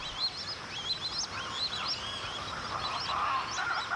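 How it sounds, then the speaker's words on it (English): A domesticated Muscovy duck, a Brazilian native, calls in a series of short, squeaky, chirping notes repeated unevenly over faint background noise. The calls are moderately close and no voices are heard. "The Muscovy duck is a Brazilian native that's been domesticated and can be found in many other countries."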